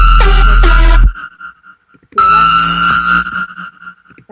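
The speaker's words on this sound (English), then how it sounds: "I took the reverb and added a tremolo effect on the reverb" A bright electronic growl synth is heard in two loud bursts with a gap of near silence between them, its reverb tail throbbing in a rapid tremolo pulse.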